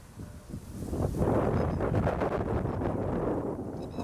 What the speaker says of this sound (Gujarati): પવન બહુ વધારે છે.